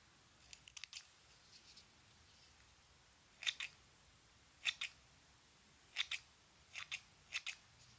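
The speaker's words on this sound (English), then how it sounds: "So cut off all the long bits which you don't like, or if you think that they are too long, just cut it a little bit off." Scissors snipping the long bits off a carrot craft for Peter Rabbit: about eight sharp, crisp snips, some in quick pairs, close and fairly quiet against a soft background hiss, with no talking.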